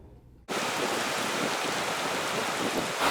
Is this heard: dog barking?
no